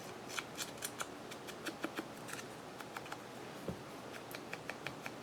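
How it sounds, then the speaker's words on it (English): Vintage music paper torn by hand indoors, heard as a quiet run of short, crisp rips and crackles at uneven intervals, close by with no talking. "Kind of going to rip it a little more because it's a piece of that vintage music paper, so it like tears super easy."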